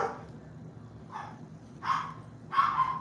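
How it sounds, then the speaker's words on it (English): A loud dog barks three times in rising bursts, nearby and growing stronger, over a low steady background hum. "I may have to get onto that loud dog."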